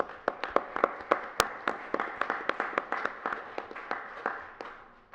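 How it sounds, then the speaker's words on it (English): A small group applauds at a city council meeting: a couple dozen sharp, distinct claps, close and fairly loud at first, then slowing and thinning toward the end, with no voices. "I think they deserve a round of applause if we could do that"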